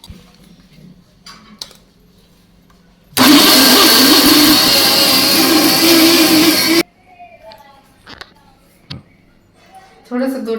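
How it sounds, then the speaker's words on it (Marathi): A kitchen mixer grinder blends mango pulp for a homemade mango cake, a loud steady whirring roar that starts abruptly and runs about three and a half seconds before cutting off, with quiet talk before and after. "आता हा मँगोचा पल्प आपल्याला मिक्सरमध्ये बारीक करून घ्यायचा"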